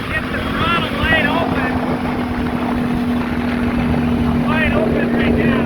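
An engine held at wide open throttle in sport mode while running hot makes a steady, loud droning hum with a constant tone throughout, as someone talks over it.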